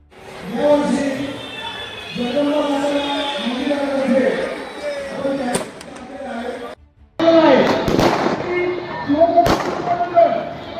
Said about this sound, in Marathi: सूचना मिळाल्यानंतर आपल्याला फटाक्याची आतषबाजी सुरू करा